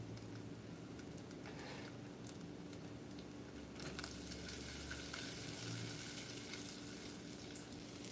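Lots of garlic frying and starting to burn in a pan for a bitter melon dinner, a steady close sizzle with crackles and occasional stirring scrapes.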